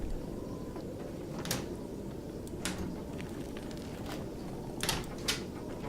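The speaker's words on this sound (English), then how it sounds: "I like the new sound effects for door opening." A cupboard door opening in The Long Dark video game: several short, soft clicks and knocks, spaced apart, sit over a low steady ambient rumble.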